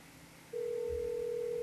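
A telephone in Parasite Eve 2 gives a single steady electronic tone lasting about a second, clean and fairly quiet over a faint background hum.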